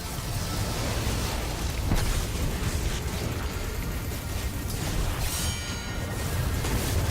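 Grenade explosions in the video game Destiny 2 during a boss fight, a dense rumbling roar of blasts and whooshing effects running the whole time, loud and continuous with no clear gaps.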